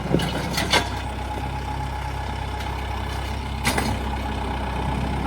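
A Kubota tractor lifts a log cut in half from a 20-foot length in a sawmill log yard. A steady diesel engine drones at moderate distance, with a couple of brief hissing or clanking bursts, and no talk.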